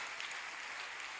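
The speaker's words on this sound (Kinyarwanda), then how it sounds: "Komera Imana amashyi mwene data" A church congregation applauding during a sermon, a continuous wash of clapping heard at moderate distance, even and unbroken over a short stretch.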